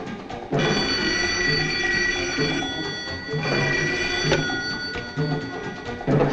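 A telephone rings repeatedly, a bright metallic bell tone sounding in steady bursts close by, alone with no talking over it.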